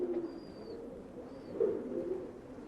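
Pigeons cooing softly, with two low coos about a second and a half apart over a faint, quiet background.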